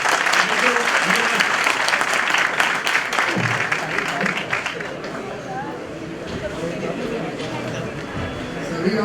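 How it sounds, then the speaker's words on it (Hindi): Loud, sustained applause from an audience at a Bar Council of Delhi enrolment meeting, a dense crackle of clapping that carries on steadily throughout, with murmuring crowd voices mixed in. "जोरदार ताली अपने लिए सर"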